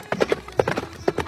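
Cartoon horse hooves clip-clopping as a king rides out in disguise, a quick rhythmic trot of close, crisp hoof beats in a short burst.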